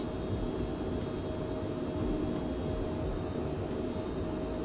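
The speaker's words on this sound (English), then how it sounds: "Takeoff thrust is set." Twin jet engines of a Phenom 100 at takeoff thrust in Microsoft Flight Simulator give off a steady, loud roar with a high whine on top, unbroken throughout and without voices.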